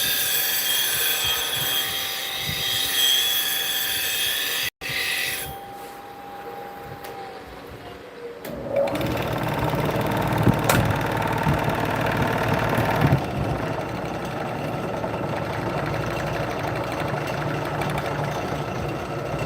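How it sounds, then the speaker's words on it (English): Wood lathe turning a bowl with a freshly sharpened bowl gouge, starting with a steady motor hum that drops away, then a rougher, louder scraping cut with uneven bursts as the gouge bites, moderately close, no speech. "We hit a fresh edge on the old bowl gouge, and we're going to get back into rounding this one off."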